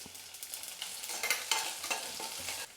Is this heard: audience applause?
no